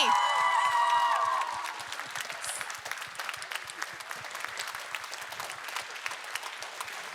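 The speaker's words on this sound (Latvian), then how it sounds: "liels paldies un skaļi aplausi mūsu mīļajam operatoram Andrim." A New Year concert crowd applauds loudly at first, then the clapping thins to a lighter, steady patter of scattered hands.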